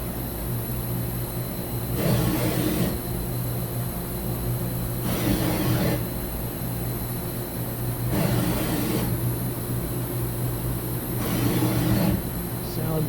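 A 2013 Mazak HCN 4000-III horizontal machining center rapids its Z-axis at 50% speed, giving four evenly spaced whooshing traverses roughly every three seconds over a steady machine hum and coolant hiss.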